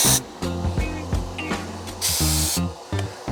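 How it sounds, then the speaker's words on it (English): A paint spray gun hisses inside a portable spray booth in short repeated bursts, with a low steady hum running underneath. "And I got to set my spray pattern first."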